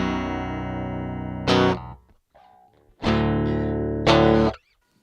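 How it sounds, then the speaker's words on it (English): A Squier Bass VI tuned up to B and set up as a 30-inch baritone guitar plays three heavily distorted chords, each ringing loudly then cut short, with brief quiet plucked notes between them. "It's a 30-inch baritone guitar."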